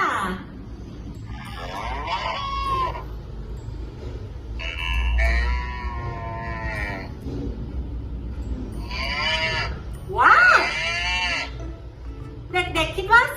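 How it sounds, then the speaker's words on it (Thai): A cow moos several times in long, drawn-out calls with short pauses between them, fairly clear over a low background rumble. "วัวนั่นเองจ้า"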